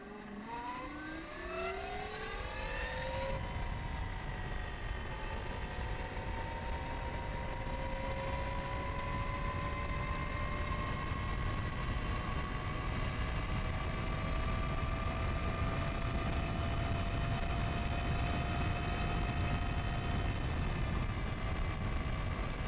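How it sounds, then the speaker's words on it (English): A 2019 Zero FXS electric motorcycle's motor whine rises in pitch over the first few seconds, then holds a sustained electric hum with road rumble, continuous and close. "so you can hear the distinctive whir of the motorcycle"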